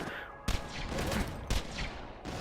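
Unkempt Harold pistol fire in the video game Borderlands, two sharp loud bursts about a second apart, each followed by a crackling, echoing tail.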